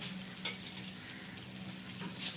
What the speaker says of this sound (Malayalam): കടുക് പൊട്ടിക്കാനുള്ള എണ്ണ